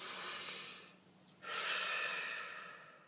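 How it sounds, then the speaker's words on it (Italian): Someone takes a deep breath and blows it out in two long, soft breathy rushes, the second following a short quiet pause and sounding a little stronger, close to the microphone with no talking. "soffiamoci un po', facciamo un respiro."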